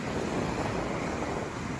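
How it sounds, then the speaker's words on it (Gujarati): Sea waves wash onto a beach on a sunny but cool day. The roar is a steady, dense rush with heavy wind buffeting the microphone throughout and no voices. "અહીંયા મોજા બહુ આવે હો,"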